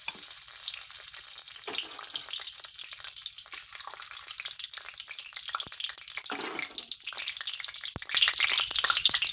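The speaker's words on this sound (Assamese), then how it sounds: "মোৰ কেৰাহীখনত তেলখিনি গৰম হৈ গ'ল। মই এতিয়া এখিলা তেজপাতখিলা দি দিম।" Bay leaf sizzling in hot oil in a kadai, a steady close frying hiss running throughout, with a louder burst of crackle near the end.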